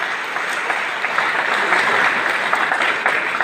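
A church congregation applauds for Jesus during a French Catholic homily, with steady, dense clapping from many hands filling the room at an even level, without voices standing out.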